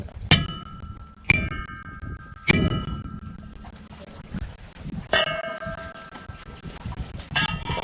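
Metal part being hammered into a boat's outboard lower unit: a few sharp, ringing clanks spaced out over several seconds, each decaying with a metallic ring, heard up close with no talk.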